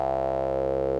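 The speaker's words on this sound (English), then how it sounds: "Let's change the filter type, because this is something that's different over the SV-1. We've also got a bandpass" A Cre8audio East Beast synthesizer holds a single sustained tone through its bandpass filter, with a bright, harmonic-rich hum and a faint steady wobble, alone with no voices.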